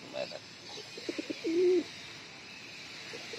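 Domestic pigeons kept in a village loft coo close by, a short run of soft pulsed notes followed by one longer drawn-out call, over faint background hiss.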